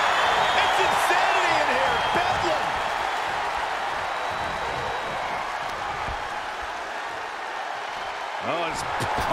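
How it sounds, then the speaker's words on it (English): A packed arena crowd roars continuously during Ronda Rousey's wrestling bout, a loud, sustained wash of cheering with sporadic shouts, while commentators talk over it. "Look at this crowd. It's insane."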